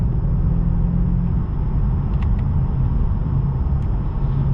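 A 2014 BMW 650i Gran Coupe with about 100k miles on the road: a steady low engine and road rumble from inside the cabin, with a few faint brief clicks and no voices.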